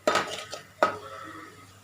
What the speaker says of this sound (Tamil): இது கொஞ்சம் நல்லா இந்த மசாலா உள்ள ரா ஸ்மெல் போகிற அளவுக்கு வதக்கிக்கிங்க